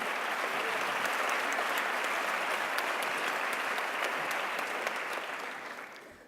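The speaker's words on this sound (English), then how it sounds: "And Maria, you deserve absolutely applause for that." Audience applause at an opening ceremony, a full, even wash of many people clapping that holds steady for about five seconds, then tapers off.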